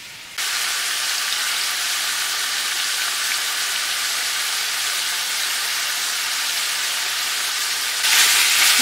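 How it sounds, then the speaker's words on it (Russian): Meat sears for a home-style pot roast in a hot pan, giving a loud, steady sizzle that starts abruptly and swells brighter near the end. "жарим, чтобы румяная корочка образовалась"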